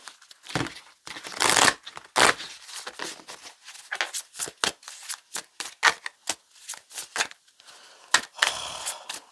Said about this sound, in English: I hate the shuffling process.